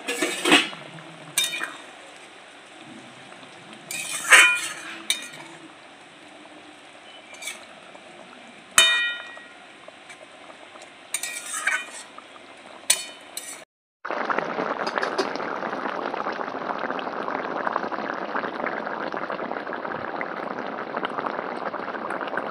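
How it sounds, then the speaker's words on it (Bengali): Fried chital fish pieces slide into a boiling kalia gravy in a pan, followed by a steady, close sizzling bubble after a few clinks of utensils against the pot. "ভেজে রাখা মাছগুলো দিয়ে দেব।"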